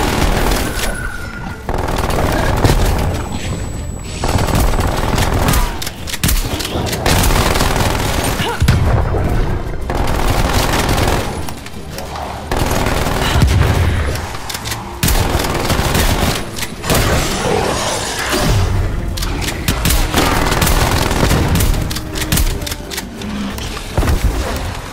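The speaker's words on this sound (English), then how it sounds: "Sentry turret going out." A sentry turret fires in Call of Duty Cold War Zombies, Onslaught mode, in sustained loud bursts of rapid shots with booming impacts, and a voice briefly speaks over the din.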